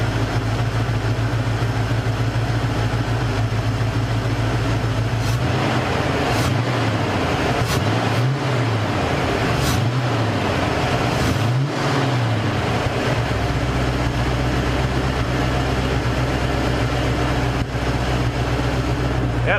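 Mercury Cougar car engine idles steadily after its misfire was fixed, a loud, even rumble heard close up, with a few brief revs in the middle that rise and fall before it settles back to a smooth idle.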